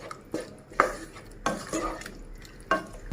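Cornflour slurry and sauce being mixed into chilli garlic prawns in a pan, heard as close, separate bursts of a spoon scraping and stirring with faint clinks, with quiet gaps between strokes.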